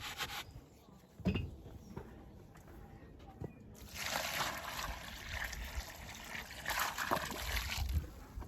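Water trickles and sloshes steadily onto postcrete mix around a field gate post outdoors, a soft continuous pour that grows fuller midway through, with no talking.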